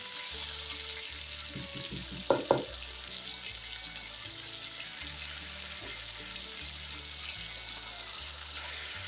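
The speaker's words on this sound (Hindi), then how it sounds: "और 1 मिनट हाई फ्लेम पर और भूनेंगे" Chicken angara frying over a high flame, a steady soft sizzle with a short cluster of stirring clatters near the start, recorded close with no talking.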